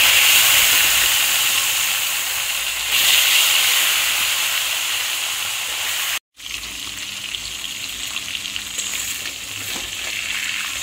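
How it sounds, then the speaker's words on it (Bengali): Pieces of shol fish sizzle steadily in hot oil in a Bengali kitchen, a loud continuous hiss with a brief break partway through before the frying resumes. "এবার এই তেলের মধ্যে আবার আমি বাকি মাছগুলো দিয়ে দিচ্ছি।"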